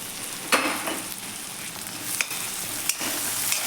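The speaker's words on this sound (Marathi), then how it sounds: "कांदा आणि टॅमॅटो हे दोन्हीही आपण एक एक ते दोन मिनिट छान असं मीडियम गॅसवरती हे परतून घेऊयात" Onion and tomato being sautéed in a pan over medium gas heat give a steady soft sizzle, with a few sharp spoon scrapes and taps as they are stirred, and no one speaking.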